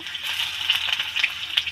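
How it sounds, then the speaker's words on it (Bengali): A patty of leftover rice frying in a small amount of oil gives a steady, close bright sizzle with soft crackles throughout, and no voices. "খুবই অল্প তেলে কিন্তু এটা ভাজতে হবে"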